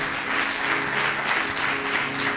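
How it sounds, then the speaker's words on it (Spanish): A church congregation gives a loud, sustained round of applause for the Lord during an evening service, many hands clapping in a continuous wash that holds steady from start to finish. "Denle un aplauso fuerte al Señor."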